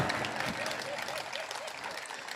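Steady clapping from a crowd at a Hindi poetry recital, a dense, even patter of many hands, fairly distant and moderate in level.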